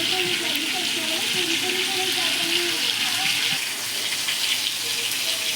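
Crab frying in a home kitchen pan, a loud continuous sizzle and bubbling with faint stirring, steady throughout.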